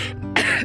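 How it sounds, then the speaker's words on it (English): A single short, harsh cough from a woman, close and loud, lasting well under a second. "Mar starts coughing."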